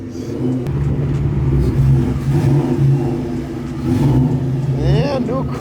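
A new Cobra car's engine revs at a car meet, a steady throaty drone with rising pulls near the end, while people chatter and talk close by over the noise.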